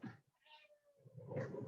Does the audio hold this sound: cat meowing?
yes